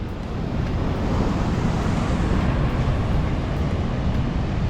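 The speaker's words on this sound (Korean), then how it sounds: "와 이거는 낚시 못하는 파도예요" Waves too high for fishing on an East Sea beach roar as continuous loud surf mixed with heavy wind buffeting the microphone, with no voices.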